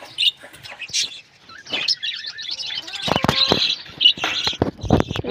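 Pet birds, a pair kept at home, chirp and tweet in a busy cluster of short, bright calls, fairly close and lively, with some indistinct human voice and rustling mixed in.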